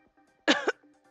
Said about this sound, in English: Saito coughed violently once more.